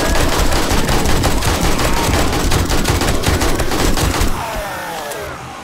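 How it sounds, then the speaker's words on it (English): Rapid 9mm gunfire in 7 Days To Die during a holiday horde night, a loud, close, continuous stream of shots for about four seconds before cutting off into a quieter tail. "we are burning through our 9mm ammo right here"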